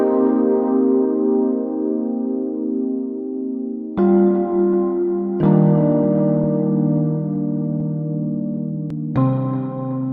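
A Kontakt 6 marimba patch run through distortion, tape delay and reverb plays sustained, ringing tones, with a few new struck notes entering over the long, ambient decay.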